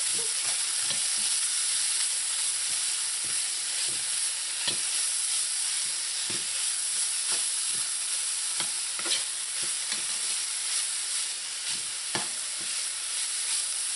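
Smoked herring fries in a pan with steady sizzling while a utensil stirs it, scraping and knocking against the pan in irregular taps throughout; no talking.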